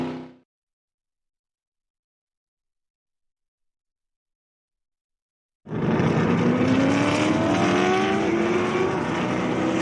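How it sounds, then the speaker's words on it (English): Race cars run their warm-up lap at a TA XGT SGT tribute race weekend. After several seconds of silence, engine roar abruptly sweeps in and holds loud and steady to the end. "So the car's on their warm-up lap"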